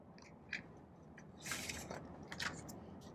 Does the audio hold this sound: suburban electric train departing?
no